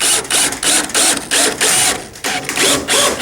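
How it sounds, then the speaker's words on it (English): A driver sends screws down through metal roofing into wooden purlins while mounting a 12-volt solar panel kit, giving loud, close, clattering bursts in a rapid stop-start rhythm of short pulses. "I'm just going to screw right down through, down into the metal, and right into the purlings"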